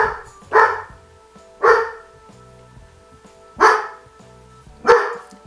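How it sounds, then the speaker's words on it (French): A dog barks four times in sharp, loud, widely spaced yaps close by, with a quiet indoor background and no talking. "j'ai été obligée de continuer avec lui qui jappe"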